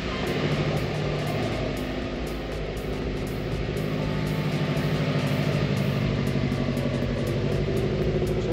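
A Subaru Legacy GT Wagon engine idles steadily and close by, a continuous low rumble with a fine even pulse and no voices over it.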